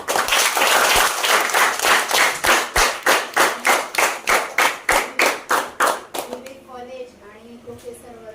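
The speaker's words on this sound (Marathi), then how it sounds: "त्यांच्यासाठी सगळ्यांनी टाळ्या वाजवा" A crowd at a school event claps in a steady, rhythmic beat for several seconds, loud and close, then the clapping stops and a voice begins speaking.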